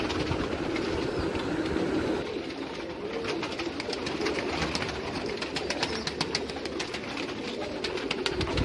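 Pigeons coo softly in the distance while a train rattles past with a rhythmic clickety-clack; no one speaks.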